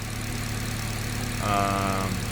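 A Nissan SR20DET engine in a 240sx S13 idles rich with a steady, close low throb, and a brief higher whine rises near the end.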